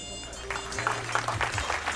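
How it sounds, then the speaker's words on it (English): A crowd at a community event gives scattered, fairly soft applause, with a few distinct claps standing out over a low hum and background voices. "Nice round of applause for Wayne Joe, please."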